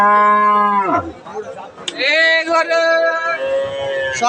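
Two loud, close cow moos at a cattle market, one short and one long and drawn out, with faint voices in the background.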